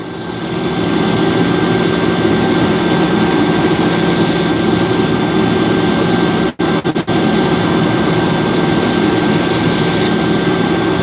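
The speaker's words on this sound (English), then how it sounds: "Plus I turned up the RPM on the grinder." Grinder running at high RPM while grinding buckthorns, a loud, steady, dense roar with a droning hum, continuous for about ten seconds, interrupted by a few brief sharp dropouts.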